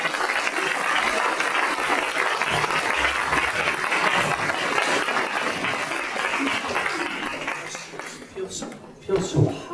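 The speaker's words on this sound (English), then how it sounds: "applause for Supervisor Melgar" Dense applause and clapping from a neighborhood association crowd honoring a city supervisor, a steady sustained roar of many hands that thins near the end as voices break through.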